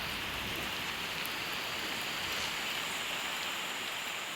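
Rain pours down steadily in the Amazon jungle, a dense, even hiss of countless drops on leaves and surfaces, unbroken and fairly loud, with no voices.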